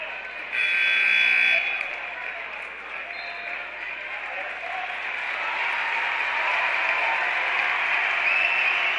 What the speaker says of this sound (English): Crowd giving loud cheers here as Renz walks off the court with 5 fouls.